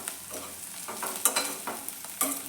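Eggs with masala sizzling in a pan while being stirred, a brief close stretch of frying hiss broken by a few spatula scrapes.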